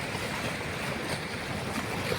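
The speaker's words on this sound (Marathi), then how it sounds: "अठरा दरवाजे हे दोन फुटाने उंच करून छत्तीस हजार क्युसेस इतक्या प्रचंड वेगाने पाणी या ठिकाणी सोडलेलं आहे" Water released through 18 raised gates of the Jayakwadi dam rushes below at 36,000 cusecs, a steady, dense roar like heavy surf heard from nearby, continuous and unbroken with no talking.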